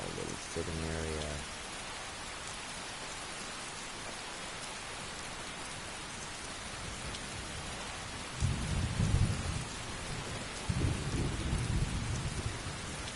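Steady rain and rolling thunder in Skyrim Anniversary Edition, a constant hiss of rainfall with two deep thunder rumbles later on, and a brief tonal chime near the start; no talk.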